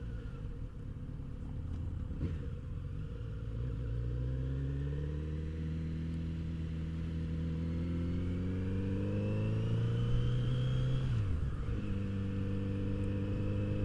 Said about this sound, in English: such a great sounding exhaust stock too